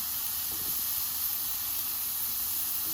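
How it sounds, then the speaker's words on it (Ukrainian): Beef steaks and carrots dry-fry in a pan without oil, giving a steady, soft, even hiss of sizzling throughout with no other sounds on top. "І гарненько їх підсмажити без олійки, без нічого просто щоб вони якби закоптились трошки."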